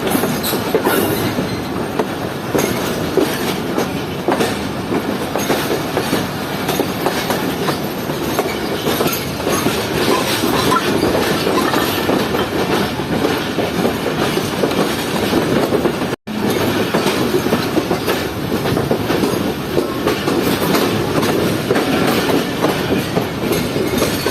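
The 18 Down Millat Express with GU40 rolls past at close range, a loud, sustained rumble with rhythmic clickety-clack of wheels over rail joints and occasional wheel squeal, with one brief cut midway.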